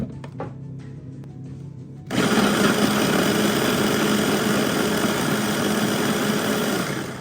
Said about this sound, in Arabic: وهضرب الحاجات ديت اخلطهم مع بعض بالهاند بلندر